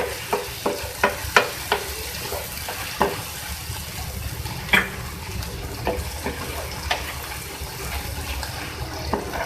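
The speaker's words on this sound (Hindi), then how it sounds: "दो मिनट इसको फ्राई करेंगे।" Chopped green chillies fry in a pan while being stirred, with a steady soft sizzle and repeated sharp clicks of a spoon against the pan, close and alone.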